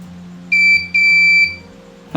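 An Arduino fingerprint door lock's buzzer rejects a wrong finger with two loud, clean electronic beeps in quick succession, the first short and the second longer, over a low hum.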